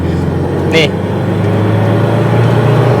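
A Toyota Hilux Tiger 4x4 with a 3000cc EFi diesel engine holds a loud, close idle drone, then its pitch steps up midway as it revs, while someone talks over it.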